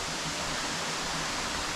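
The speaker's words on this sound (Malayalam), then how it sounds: "നല്ല ഹൈറ്റിൽ നിന്നാണ് വെള്ളം വീഴുന്നത്." Kadappara waterfall near Mangalam Dam, water dropping from a good height, a steady broadband roar with no breaks, fairly close and constant throughout.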